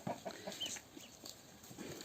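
Chickens cluck in short, scattered bursts, fairly close, in a rural village setting, with soft background rustle and no talking.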